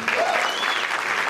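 A concert audience applauds a band at a show opening, a dense wash of clapping and crowd noise with a whistle rising through it, moderately loud and brief.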